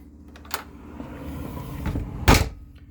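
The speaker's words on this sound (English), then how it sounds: "You have a really nice pocket door here that locks." A pocket door inside a Marathon coach bus sliding and thudding shut, with a light click early on and a louder wooden knock near the end, close and sharp in an otherwise quiet interior.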